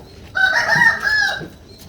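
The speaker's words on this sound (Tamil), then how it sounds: "அது சேவல் சேவல்" A rooster at a village resort lets out one full cock-a-doodle-doo, loud and close, lasting about a second and standing alone without talk.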